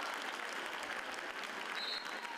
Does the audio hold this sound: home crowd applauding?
yes